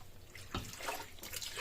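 Half a litre of water is poured from a tap-like stream into a saucepan while making sweet chili sauce, a steady splashing rush with a brighter gush partway through, close and alone.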